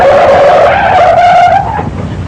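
A powerful-motored car pulls up fast, its tires skidding and squealing loudly in one sustained screech that fades after about two seconds.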